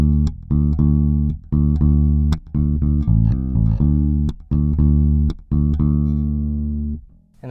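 Schecter Hellraiser Extreme bass guitar with the mids cut fully, playing a series of sustained single notes with short gaps between them; loud and close, no voices.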